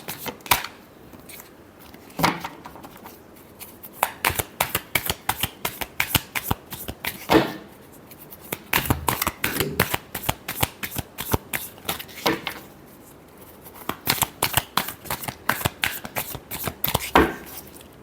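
Tarot cards being shuffled by hand, close up, in repeated quick riffling bursts separated by short pauses, crisp and rhythmic over about eighteen seconds with no talk.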